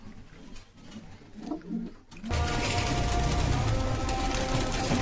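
Punjabi Malbai pigeons give a couple of low coos in a fairly quiet space before a loud, steady rushing noise takes over and buries them.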